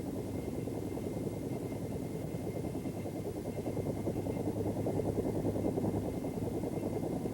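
A Bell AH-1 Cobra helicopter in flight gives a steady, loud rotor and engine roar that holds evenly throughout, with no pauses and no voices.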